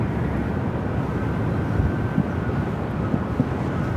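A Boeing Dreamliner taxis at Phoenix airport, a low, steady engine rumble with a faint high whine running through it, continuous and moderately loud across the few seconds.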